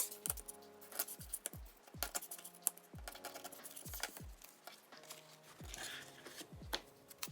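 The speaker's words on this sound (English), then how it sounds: "Then I will use my wonderful tearing ruler to tear this." Paper being torn against a tearing ruler while collaging, heard as a series of short, close rasping rips and taps in an irregular rhythm, with no voice.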